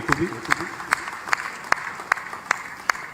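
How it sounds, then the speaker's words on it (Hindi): Sparse, evenly spaced claps sound about every half second over a murmur of voices at a large village public rally, like slow rhythmic clapping rather than full applause. "जोरदार तालियां इस हेतु भी।"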